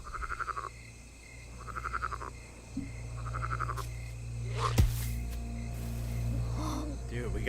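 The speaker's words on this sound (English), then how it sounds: "We got frogs in this game" Frogs croaking in the video game Black Myth: Wukong, three rhythmic bursts of pulsing croaks over a low ambient hum, followed by a sharp thump and a softer croak near the end, with a voice talking briefly.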